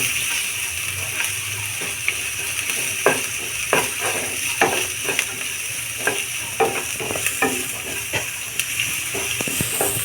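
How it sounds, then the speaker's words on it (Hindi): Onions fry in a pan over a medium flame for sarson ka saag, with continuous sizzling and hiss broken by repeated scraping stirs of a spoon, close and moderately loud. "प्याज को चला चला के मीडियम फ्लेम पर अच्छी तरह से भूंज लेंगे।"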